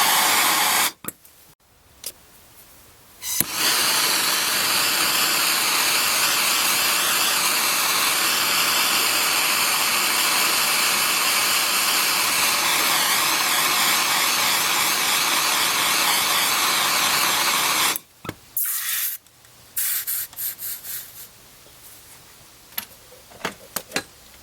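Silver spoon ring heated slowly with a torch for annealing: a steady, loud hissing roar that holds for about fifteen seconds, with brief clicks and sputters at the start and end.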